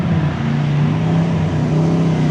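A BMW drift car's engine drones loud and steady at Evergreen Speedway during a Halloween drift contest, a sustained close mechanical roar with no voices over it.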